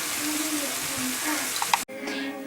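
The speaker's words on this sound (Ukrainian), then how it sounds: "Для начинки смажимо цибулю на олії до золотистого кольору на повільному вогні." Chopped onions fry in oil over low heat, giving a steady soft sizzle close by, briefly broken by a clatter and a short gap.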